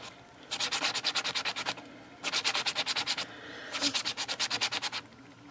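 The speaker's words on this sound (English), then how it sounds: "I am just trying to sand over it" Drywall mesh rubbing over a polymer clay egg in three bursts of quick, rhythmic back-and-forth sanding strokes, close and fairly soft, with brief pauses between bursts.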